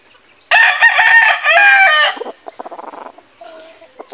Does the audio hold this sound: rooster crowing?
yes